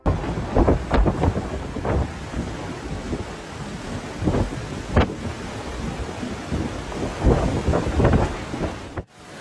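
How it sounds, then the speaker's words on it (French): Hurricane Milton lashes Florida with heavy rain and gusting wind buffeting the microphone, while thunder rumbles and cracks in several loud bursts over a constant storm roar. "La tempête déchaînée a provoqué des tornades dévastatrices"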